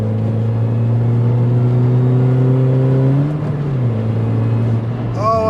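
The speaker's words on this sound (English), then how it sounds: "That supercharger sounds absolutely lovely." A modified Mini R53 with a supercharged engine and deflapped exhaust accelerates on the road, its loud whine and engine tone rising steadily in pitch, dipping briefly, then climbing again, heard from inside the car.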